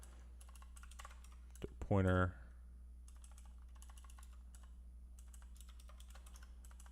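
Code is typed on a computer keyboard in bursts of quick clicking separated by pauses, with a steady low hum underneath and a short spoken word in the middle.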